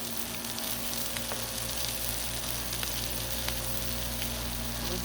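Eggs and buttered bread sizzling on a hot Blackstone griddle, a faint continuous frying hiss with scattered small pops over a low steady hum.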